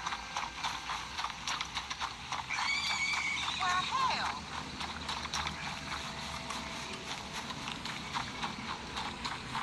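Horse in the video game Red Dead Redemption 2 gallops with rapid, rhythmic hoof clatter throughout, joined by a brief whinny early on, under a busy game soundscape.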